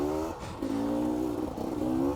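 A 2017 Beta 300 RR two-stroke dirt bike engine revs up and down close by, a rough buzzing note rising and falling in a few quick surges.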